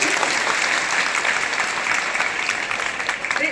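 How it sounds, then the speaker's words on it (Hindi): Parents and students applaud at a school parent-teacher meeting, a dense, steady round of clapping that fills the whole stretch at moderate volume. "ताली बजा दो ना तुम्हारी ताली"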